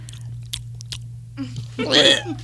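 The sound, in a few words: chewing, mouth sounds into microphone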